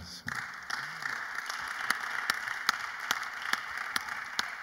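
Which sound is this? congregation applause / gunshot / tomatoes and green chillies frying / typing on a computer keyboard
congregation applause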